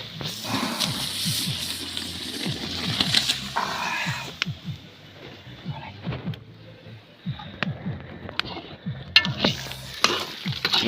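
Beans and homemade sausages frying and being stirred in a cauldron, with steady sizzling and bubbling and repeated scraping stir strokes, loud and close throughout.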